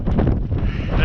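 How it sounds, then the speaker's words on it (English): Strong wind on a winter mountain hike up Ben Lomond buffets the microphone in a brief, loud, rumbling rush. "the wind is stronger now that I'm getting a wee bit higher up"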